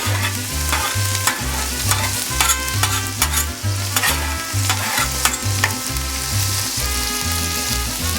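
Chorizo sizzles on a Blackstone griddle in a loud, steady fry while a metal spatula clacks and scrapes the hot flat-top in quick, rhythmic strokes, with no voices.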